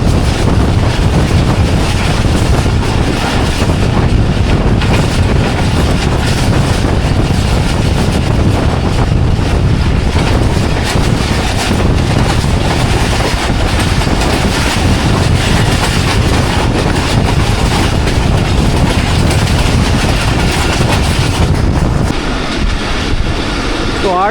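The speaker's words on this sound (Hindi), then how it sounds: "काला गुजरा से थ्रू पास हो रही है ट्रेन" A train runs through Kala Gujran on an early, rainy morning, heard from aboard as a loud, continuous rumble with buffeting wind noise and faint wheel clatter.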